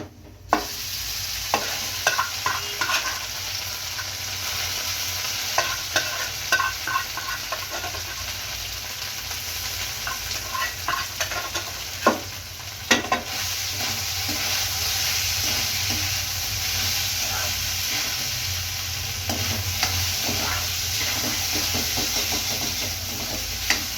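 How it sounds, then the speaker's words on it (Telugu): A boiled flour mixture is stirred into a hot tempering in a pan while making a telagapindi and chana dal curry: continuous scraping and stirring over a low sizzle, with scattered utensil clicks, close and steady, no talking. "మనం ముందుగా ఉడకబెట్టి ఉంచుకున్న మన ఈ తెల్లపిండి మిశ్రమాన్ని అందులో వేసి కలుపుకుందామండి"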